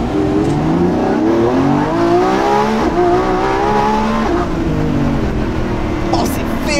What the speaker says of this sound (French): Allez, on écoute le V12.